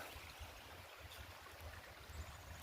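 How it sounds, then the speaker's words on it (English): Running water of a forest stream along a hiking trail, a steady low rushing and gurgling flow that holds even and continuous throughout, fairly quiet and heard on its own with no voices. "I love the sound of the running water."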